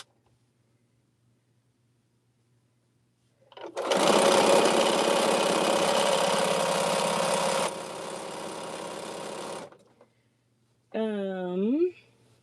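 A sewing machine joins quilt pieces along their long sides, running in one steady, close whirring stretch of about six seconds that eases slightly near the end. A short voice follows after it stops.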